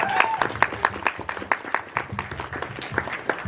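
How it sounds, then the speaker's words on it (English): Audience applause at a furry convention dance competition, sparse, uneven clapping from a modest crowd at moderate volume, with some cheering and voices mixed in. "So big round of applause for Tat as well."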